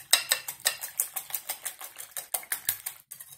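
Three eggs and sugar beaten together in a bowl, a fast rhythmic clatter of the whisk striking the sides, about five strokes per second, close and alone.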